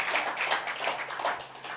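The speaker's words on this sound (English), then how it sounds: "Clap your hands for him." A church congregation claps for their pastor, a rapid, dense run of overlapping handclaps that swells and ebbs for a couple of seconds, close and fairly loud, with no talking.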